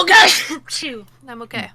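One loud, close sneeze bursts out, and then a person speaks briefly during a live stream.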